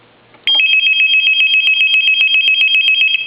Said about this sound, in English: I'm going to stop the ring. I'm going to go ahead and answer the phone.